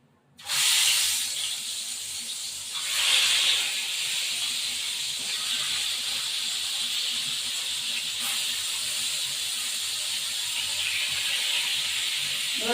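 Fish frying in hot, lightly salted oil gives a loud, steady hiss that starts abruptly and holds unbroken for several seconds, with a brief swell near the start.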